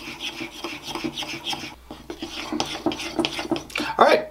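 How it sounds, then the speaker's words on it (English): Milk and vanilla stirred into a cinnamon roll topping in a bowl, a steady rasping, scraping rhythm of utensil against bowl, close and continuous, growing briefly louder near the end. "we're just going to mix this together into our topping"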